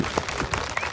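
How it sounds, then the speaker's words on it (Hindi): Dense applause from a crowd at a public gathering honouring community members, steady and loud across the whole brief moment. "जोरदार ताली"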